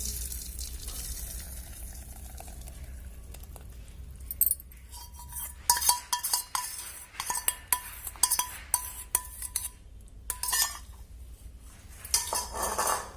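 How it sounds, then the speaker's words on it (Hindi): Mixed milk is poured into a pan that already holds sugar. Metal utensils clink and scrape in quick, irregular bursts, quiet and close, with no talking. "अपने मिक्स किए हुए दूध को इसमें हम डाल देंगे।"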